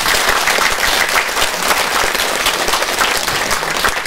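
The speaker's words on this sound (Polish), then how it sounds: "Jeszcze raz gromkie brawa." Loud, steady applause from a live audience at a stage event in Sokółka, dense clapping filling the whole stretch without a break.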